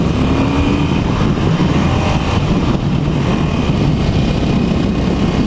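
A 2018 Harley-Davidson Roadster motorcycle engine on a ride, with a continuous loud drone mixed with strong wind rush throughout.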